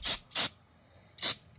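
Aerosol carburetor cleaner is sprayed on a Honda CRF 50 carburetor in three short, loud hissing bursts close to the mic. Two bursts come in quick succession and a third follows after a pause.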